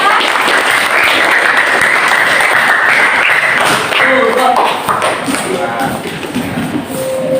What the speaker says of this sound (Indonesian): beri tepuk tangan dulu buat kelompok Antasari ya